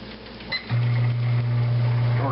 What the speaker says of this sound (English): tortillas in the microwave, heat it up.